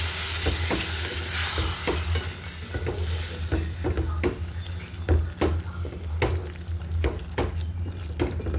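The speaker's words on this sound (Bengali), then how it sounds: "মশলাটা কষিয়ে নেব।" Spice masala of ground coriander, cumin and black pepper with a little water fries in a pan for a chicken and potato curry, a continuous sizzle broken by regular sharp scrapes and clacks of stirring, close and clear.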